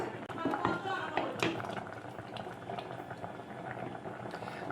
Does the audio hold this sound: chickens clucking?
no